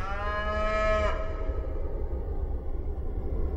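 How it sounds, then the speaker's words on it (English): Free-range cattle on the wide open range of western North America let out a single long, loud moo, which fades into a steady low outdoor rumble for the rest of the clip. "In the wide open spaces of western North America, free-range cattle are thriving."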